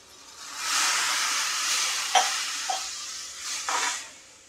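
A glass of cold water is poured into a hot pan of cooked spinach and potato vegetable with the gas turned off, giving a steady close hiss and sizzle for about four seconds with a few brief splashy bursts.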